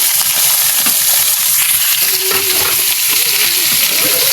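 Chicken pieces hit hot oil with browned garlic in a pan, a loud, dense continuous sizzle with crackling spatters close up and occasional stirring scrapes.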